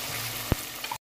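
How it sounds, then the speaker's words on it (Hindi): Tomatoes and ginger-garlic paste fry in oil in a pot for a dal, making a short hiss of sizzling with one sharp knock of a spoon partway through, then a brief cutoff. "अब हमने टमाटर इसमें शामिल कर देंगे, और ये 1 टीस्पून जो है भर के हमने, 1 खाने का चम्मच जो है हमें लहसुन अदरक का पेस्ट डाल दिया है।"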